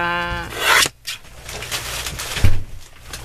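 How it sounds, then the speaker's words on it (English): A page from a flower book being trimmed makes close, loud paper rasping and rubbing in a few short strokes, followed by softer scraping, with no voices. "just want to trim it a bit. This is from a flower book."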